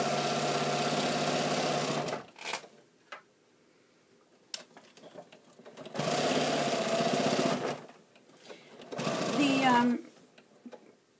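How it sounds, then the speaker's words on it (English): A sewing machine fitted with a walking foot stitches fabric for a bag in steady, loud whirring runs of about two seconds each, separated by pauses with soft clicks and a person talking. "I can stitch through them pretty easily, so I do use a walking foot."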